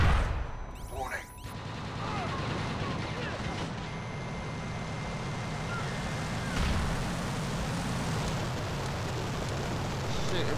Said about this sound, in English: Shooting through walls.